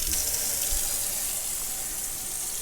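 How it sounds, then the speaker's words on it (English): Water runs steadily from a tap fed by a residential well pump system, a constant close hiss and splash with no breaks. "Let's run some water here."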